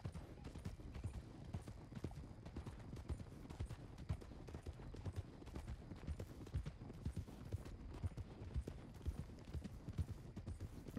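Hooves of three horses with riders clip-clop steadily and fairly close in a dense, continuous patter, with a few faint voices in the background of a western-themed game scene set near railway tracks heading south.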